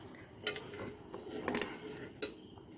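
A spoon stirring four spoons of sugar in a pan while it caramelises, with a few faint metallic scrapes and clinks against a soft background hiss.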